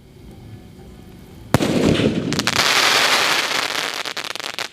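Sky shot Diwali firework launching with a sudden loud bang, then a sustained dense roar of crackling bursts and popping that trails off into scattered crackles, close and loud.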